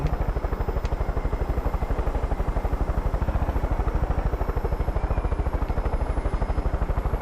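A helicopter in the video game Far Cry 5 throbs with a steady, fast rotor chop under a constant engine whine, loud and unbroken throughout, with no talking.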